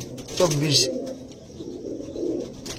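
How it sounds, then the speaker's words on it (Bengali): Andhra pigeons give a few soft, low coos close by, partly overlapped by someone talking nearby. "সবাই চেনে আন্ধ্রা পায়রা"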